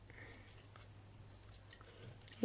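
Scissors snipping through material to cut a donut shape for a handmade door stopper, soft and faint crunching cuts over a low steady hum, with no voices.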